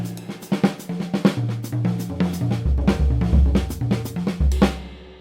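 Drum fills in a linear style, single strokes moving one at a time around the kit over a walking bass line, a busy run of crisp hits and deep tom notes played close and loud with no talk.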